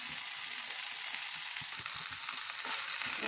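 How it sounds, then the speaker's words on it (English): Masala moong sprouts simmer uncovered in a pan over a low flame, giving a steady soft sizzle and faint bubbling hiss throughout, close and continuous with no voices. "You can either close it and cook, or else just open it and simmer in a low flame."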